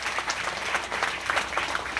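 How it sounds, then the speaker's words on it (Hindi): A gathering applauds a school principal, with a dense, continuous round of crowd clapping that holds at an even level throughout. "एक बार इनके नाम पर भी ताली बजा के इनका स्वागत करें।"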